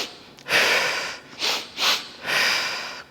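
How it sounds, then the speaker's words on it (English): Breathwork pattern during a yoga flow: two sharp, quick nasal sniffs followed by a long, forceful exhale, close and clear with no talking, preceded by a longer breath burst. "the breath is gonna be 2 sharp inhales through the nose and a big breath out."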